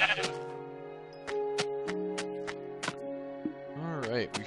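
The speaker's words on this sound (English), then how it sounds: "Oh cool, there's a third sheep." Sheep in Minecraft bleat several times in a row, clear and close, with sharp pitch-bending calls layered over one another, followed by a wavering cry near the end.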